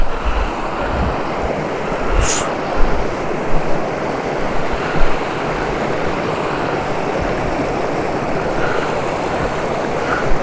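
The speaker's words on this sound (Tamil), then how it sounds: "தண்ணி எவ்வளோ வேகமாக வருது பார்த்தீங்களா?" Rushing water from a large waterfall at Kollimalai, a steady, loud, dense roar that fills the whole stretch without pause, with a faint occasional wind buffet.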